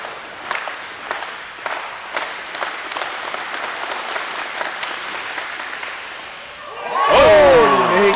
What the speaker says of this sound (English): Oh, we're getting some clapping here.